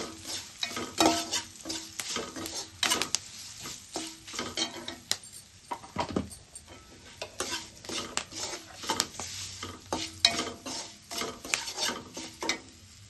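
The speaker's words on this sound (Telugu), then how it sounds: "హాఫ్ స్పూన్ సాల్ట్, 1 స్పూన్ కారం వేసి కలుపుకుందాం." A spoon stirs a flattened rice (atukula) mixture seasoned with salt, turmeric and chili powder in a metal pan, making repeated close scrapes and clinks in a busy, uneven rhythm with no talking.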